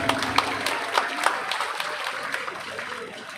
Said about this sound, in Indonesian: Luar biasa, tepuk tangan untuk SMA.